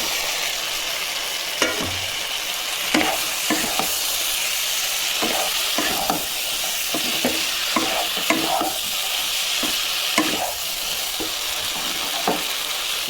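Cauliflower and potato being stir-fried with spices for a paneer cauliflower curry, broad steady sizzle with repeated scraping stir strokes of a spatula against the pan, close and continuous, no voices.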